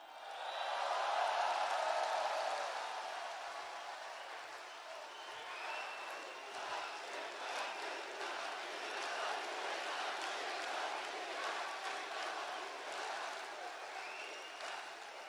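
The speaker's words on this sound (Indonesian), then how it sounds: "Dan tepuk tangan juga buat sahabat saya Mas Gibran." Audience applause at a political party gathering, a dense, steady wash of clapping from a large crowd that holds roughly even for the whole stretch without easing off.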